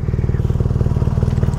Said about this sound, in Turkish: Egzoz ciddi güzel ses çıkarıyor.